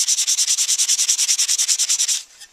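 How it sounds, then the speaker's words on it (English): Sandpaper is rubbed by hand over the top of a metal crossbow part in loud, close, rapid back-and-forth strokes, about twenty evenly spaced rasps before it stops. "I'm going to go ahead and take some sandpaper and just hit the top of it to start with."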